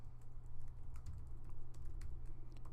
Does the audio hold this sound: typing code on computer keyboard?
yes